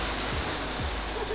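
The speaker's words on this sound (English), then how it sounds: "So I want to get in this waterfall." Steady, loud roar of a waterfall crashing close by in the Blue Ridge, Georgia woods, a continuous broadband rush that does not let up.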